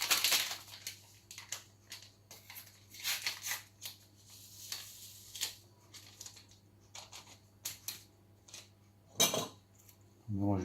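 Semolina cake ingredients with oil and vanilla sugar stirred in a bowl, producing faint irregular scraping and clinking of a utensil against the bowl over a low hum, with a few louder knocks.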